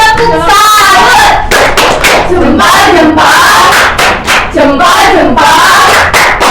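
Schoolchildren in a primary classroom clapping and shouting together during a microteaching lesson, loud rhythmic bursts of hands and cheering voices, close and energetic.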